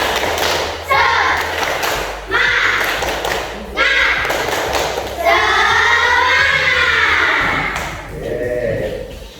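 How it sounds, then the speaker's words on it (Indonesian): Classroom group doing a rhythmic clapping chant, several sharp loud bursts of clapping in a patterned beat, with children's voices chanting between and over the claps. "tepuk semangat."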